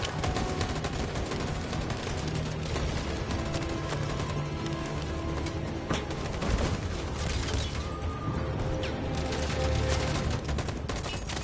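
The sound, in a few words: gunfire from the video game Detroit: Become Human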